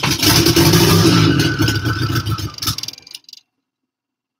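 A car engine cranks and fires close by, running rough and loud with uneven revs for about three seconds before sputtering and cutting out into silence.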